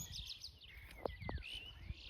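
Birds chirping and calling on a village morning, with short tweets and thin whistled slides over a faint low background rumble.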